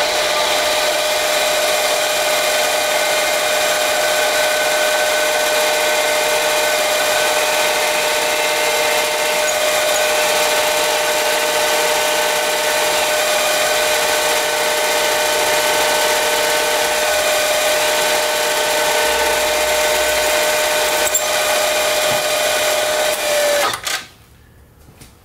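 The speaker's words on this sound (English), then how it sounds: "we're going to drill down through there" A power drill bores a hole with a drill bit, a loud, steady whine running unbroken for over twenty seconds before cutting off abruptly near the end.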